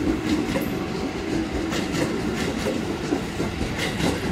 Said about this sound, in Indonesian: Jalur 3 melintas langsung Komuter Line arah Bekasi.